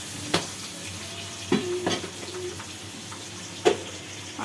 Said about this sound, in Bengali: আমি এটাকে এখন ভালো করে মিশিয়ে নেব।